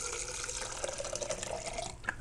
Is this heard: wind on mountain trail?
no